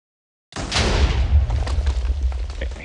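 A loud, close explosion in the video game Minecraft bursts in abruptly after a moment of silence, then rumbles and crackles as it fades over a couple of seconds.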